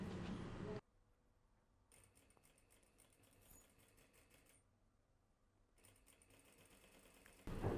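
Sewing machine running a zipper seam 1.5 centimeters wide, a steady close mechanical chatter of stitching broken by short pauses, with louder handling noise at the start and end.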